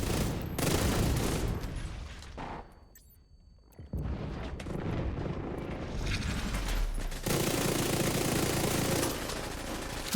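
Sustained video game gunfire, a dense rapid fusillade of shots with blasts, loud for most of the stretch apart from a brief lull in the middle.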